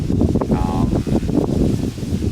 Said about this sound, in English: it's like really windy today as well